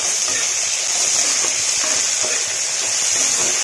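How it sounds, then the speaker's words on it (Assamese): Soybean chunks fry with onions in a pan in a village kitchen, a loud, continuous crackling sizzle with soft stirring scrapes throughout. "পিঁয়াজ পূৰা ধুনীয়াকৈ চাই চয়াবিনখিনি ইয়াতে দি দিছোঁ ভাজি হ'ব"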